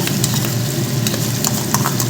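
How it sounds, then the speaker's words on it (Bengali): Spice paste fries in oil for a paneer dish, a steady close sizzle with occasional crackles and stirring. "মশলাটা আমার প্রায় একটু ভাজা ভাজা হয়েও আসছে, তেল ছেড়ে আসছে"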